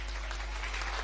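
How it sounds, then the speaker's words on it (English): Audience at an intra moot court competition applauds the announced winning team, a steady wash of clapping that is loud and continuous throughout with no voices over it. "It's a big clap for the SNU 42."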